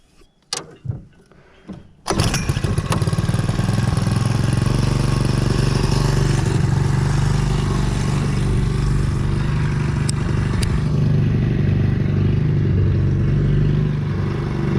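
A new Hangkai 4HP four-stroke outboard motor being broken in starts after a couple of seconds of faint clatter, then runs loud and close with a steady, buzzing drone that continues to the end.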